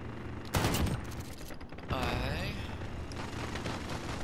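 Shotgun blasts in Call of Duty: Modern Warfare 3, a loud burst followed by another a second later, with dense game noise and players talking throughout.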